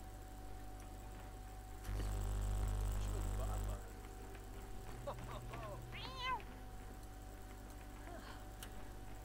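Cat in The Sims 4 video game giving a few short meows in the middle, fairly faint over a low hum and a brief louder burst of background noise, with talking nearby.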